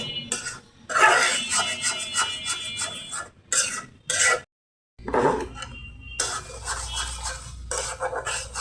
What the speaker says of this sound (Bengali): আবার একটু ভালো করে নেড়ে ছেড়ে দিব